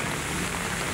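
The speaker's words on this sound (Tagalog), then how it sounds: "Malakas ang ulan." Heavy rain pouring steadily onto garden plants and surfaces outdoors, a dense continuous hiss at close range with no voices.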